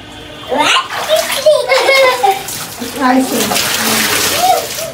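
Water poured by hand over a person during a wedding bath ritual, splashing in bursts under lively talk, laughter and children's voices close by.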